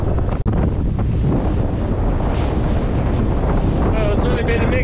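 Strong wind of around 20 knots gusting 25 roars across the microphone aboard a reefed Mini Transat racing sailboat in a rough sea, with sloshing water beneath and a brief knock near the start.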